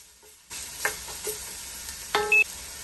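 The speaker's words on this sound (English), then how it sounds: "sauteing onions and carrots in a little olive oil on medium heat for 5 to 7 minutes" Onions and carrots sauteing in olive oil over medium heat, a sizzle that starts abruptly after a short silence, with a few stirring scrapes and a brief electronic beep near the end.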